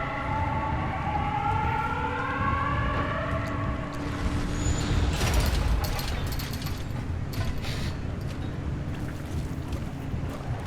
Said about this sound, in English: Why does the siren sound so much louder here?